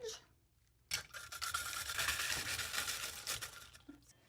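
Red cabbage is grated against a cone grater as a quiet, continuous scraping rasp. It starts after a brief pause and runs steadily for about three seconds before stopping.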